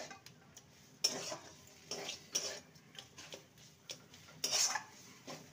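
Vegetable chop mixture being mixed by hand in a bowl, with irregular clinks and scrapes of utensil against the dish every second or so, close and fairly quiet, no voices.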